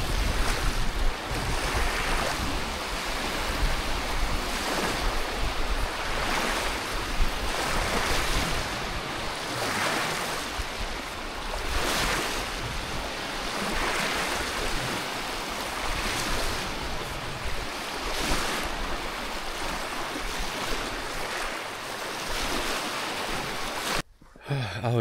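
Wind and waves on Zemplínska Šírava lake in October: a constant blustery rush with rhythmic surges of water breaking close by, loud and unbroken, no voices.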